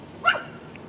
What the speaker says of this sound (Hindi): दूसरी गली के ना कुत्तों ने यहाँ पर अटैक कर रखा है, इन सारे कुत्तों पे।